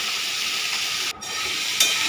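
Food with salt and turmeric is stirred in a pan, giving a steady close sizzling hiss with brief scraping breaks where the spoon moves through it.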